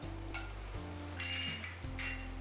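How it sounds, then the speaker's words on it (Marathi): Whole spices (cumin, bay leaf, cinnamon stick, green cardamom) sizzling and roasting in hot oil for paneer butter masala, a steady close crackle with a low background hum. "आता छानपैकी याला असं भाजून घ्या। मसाले असे तेलात भाजले थोडेसे"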